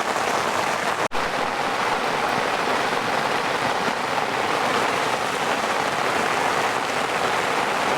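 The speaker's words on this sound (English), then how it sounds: "We are in the f***ing pouring rain, boys!" Pouring rain in a storm at a carp fishing lake at Brasenose 2, Linear Fisheries, a dense, steady hiss of heavy drops beating on surfaces nearby. One sharp click breaks through early on.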